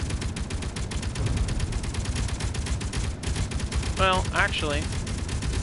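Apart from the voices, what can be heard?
gunfire in a video game (Helios underground survival)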